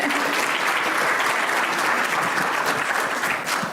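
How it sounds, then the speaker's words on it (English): Audience applause for panelists at a community iftar evening, sustained close, dense clapping that holds steady throughout with no talk over it. "let's give one more round of applause to our panelists"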